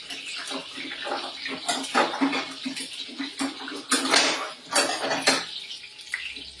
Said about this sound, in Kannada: ನೀರಿನ ಅಂಶ ಯಾವ್ದಾದ್ರು ಎಣ್ಣೆಯಲ್ಲಿ ಇದ್ರೆ ನೋಡಿ, ಈಗ ಈ ರೀತಿ ಚಿರಿ ಚಿರಿ ಅಂತ ಅವಾಜ್ ಬರ್ತಾ ಇರುತ್ತೆ